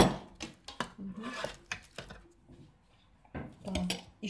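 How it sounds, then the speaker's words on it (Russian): Metal cooking pot set down in a home kitchen while baking sweet banitsa with Turkish delight, with several clatters and knocks of dishes and utensils, close and fairly loud. "А давай поставь вот сюда кастрюлю."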